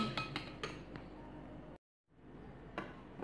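A utensil clinks against a bowl as chilli chicken sauce is mixed, a series of light metallic taps and scrapes close up. A brief silent gap falls midway, then clinks resume.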